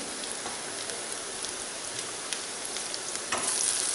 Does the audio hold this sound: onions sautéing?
yes